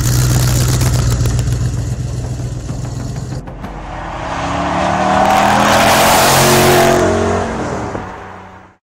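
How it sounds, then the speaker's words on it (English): A De Tomaso sports car with a big American engine idles roughly, then revs up hard and loud close by, the note rising and holding before cutting off abruptly. "The engine note, it really is a buzz."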